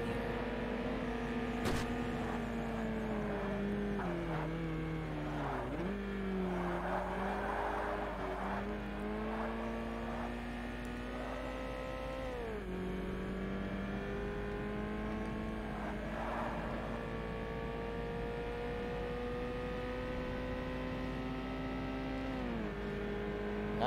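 Race car engines drone through a race in Forza Motorsport, a steady high whine that rises and falls with gear shifts and acceleration, fairly faint and continuous throughout.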